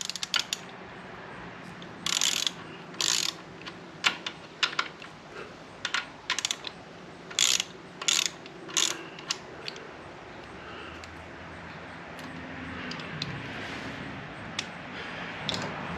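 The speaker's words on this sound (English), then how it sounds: "next we loosen our pinch bolts" A ratchet loosens the pinch bolts on a Harley Softail front wheel in a garage, making short bursts of quick clicking separated by pauses, fairly quiet and close, with no talking.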